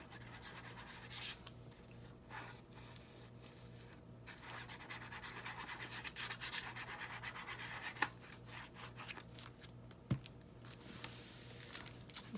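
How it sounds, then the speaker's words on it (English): Glued junk-mail envelope paper being burnished flat onto a scrapbook page by hand: soft, continuous rubbing and brushing strokes with a few faint taps, quiet and close with no speaking. "and burnish it with my hand"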